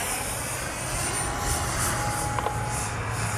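Arrows RC L-39 model jet, a 50 mm electric ducted-fan toss-and-launch plane, flying with a steady airy whine and motor hum held at an even distance and loudness throughout.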